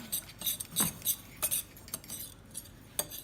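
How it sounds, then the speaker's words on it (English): Panko breadcrumbs being stirred together with a ranch dressing packet in a bowl, giving soft scraping and light clinks of a utensil in an irregular rhythm, close and fairly quiet. "this is the breadcrumbs, panko, and the ranch dressing packet. That is gonna be mixed thoroughly together"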